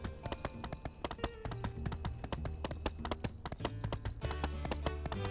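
Horse hooves clip-clop in the farming and life-sim game My Time at Sandrock, a quick steady run of hoof taps over a busy background of game music and ambience.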